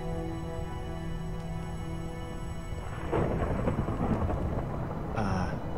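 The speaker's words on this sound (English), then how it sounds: "The weather storm's probably here." Thunderstorm in the video game Minecraft Story Mode, with a steady held tone giving way midway to a loud rumbling roll of thunder and broadband storm noise that persists to the end.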